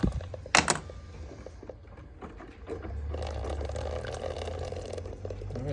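A Cuisinart coffee maker brews and pours water, a steady gurgling liquid hiss that builds midway and continues alone after a few sharp knocks at the start.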